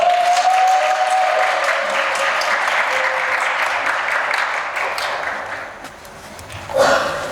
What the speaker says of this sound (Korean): 첫 번째 좀 떨리니까 여러분들 큰 박수 부탁드리겠습니다.